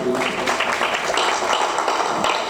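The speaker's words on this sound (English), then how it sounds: "A round of applause for her, please." Audience applause at the AMVCA11 awards event, a continuous wash of clapping from a large crowd that holds steady and fairly loud for a couple of seconds with no voices over it.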